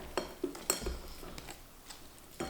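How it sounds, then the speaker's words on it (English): Baby bok choy set into a clean bowl in a home kitchen, giving a few light, separate clinks and soft knocks of greens against the bowl, quiet and close, with no talking. "You're going to place them in a clean bowl"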